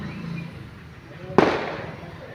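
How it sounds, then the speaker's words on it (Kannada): A single firecracker bursts with one sharp loud crack partway through, its echo trailing off quickly, following a stretch of quiet low background murmur. "ಪಟಾಕಿ ಪಟಾಕಿ"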